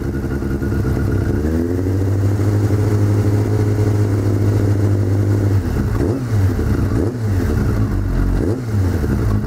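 Engine of a low-mileage Suzuki GSX600 motorcycle, freshly valve-adjusted during a wreck rebuild, idling loudly close by, then blipped in several sharp throttle revs that rise and fall in quick succession.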